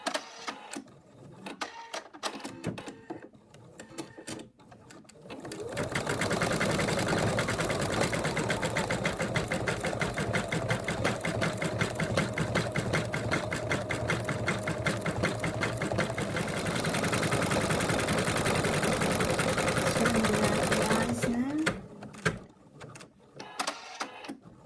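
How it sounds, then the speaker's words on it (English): An embroidery machine stitching the pupils of the eyes on a zippered ladybug purse, running as a loud, steady rapid mechanical chatter of needle strokes for most of the stretch, with quieter clicks and movements before it starts and after it stops. "The machine is finished embroidering the white of the eyes, and now it's going to do the pupils"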